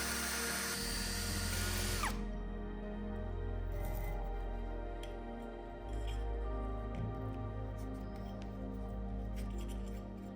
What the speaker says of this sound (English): we drill some holes in the motor fins.